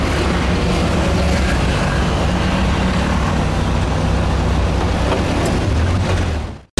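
A 1600 Volkswagen 181 air-cooled engine runs steadily with a whirring fan belt, a constant dense drone that cuts off abruptly at the end.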